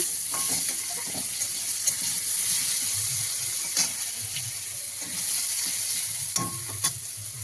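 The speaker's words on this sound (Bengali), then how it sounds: "লাল লাল করে আলুগুলো একটু ভেজে নেব" Potatoes fry in hot oil with cumin, dried red chilli and bay leaf, a continuous sizzle broken by occasional stirring knocks and scrapes of the spatula.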